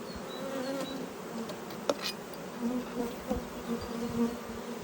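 Honey bees buzz steadily around a hive entrance fitted with a pollen trap with 5 mm holes. A dense, continuous drone carries a few louder passes as individual bees fly close, with no talk.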